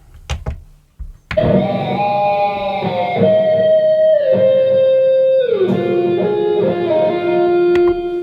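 Reamped electric guitar captured as room sound on a Zoom R16 multitrack, a few faint knocks before loud sustained overdriven notes bloom and glide between pitches, filling the space steadily to the end.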